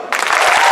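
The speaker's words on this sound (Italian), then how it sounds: "vai, un bel applauso" Applause bursts out suddenly from the crowd at the Miss Toscana 2022 pageant show, loud, close clapping that starts sharply and holds strong.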